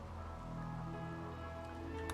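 Steady rain pattering in RimWorld, a dense, even hiss of drops with low rumbling beneath and no voices, constant and moderately loud throughout.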